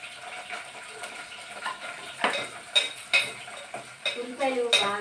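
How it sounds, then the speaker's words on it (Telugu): Sliced onions tipped into a hot pan and stirred, with metal utensil clinks and scrapes rising over a light frying sizzle, close by, with no talk. "నెక్స్ట్ ఉల్లిపాయలు వేసుకోండి"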